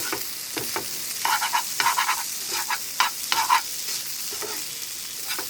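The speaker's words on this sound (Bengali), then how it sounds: "একটু নেড়ে চেড়ে দিব।" Vegetable noodles being stirred in a frying pan, with a soft sizzle underneath and repeated scraping and tossing strokes in irregular bursts, close and fairly clear.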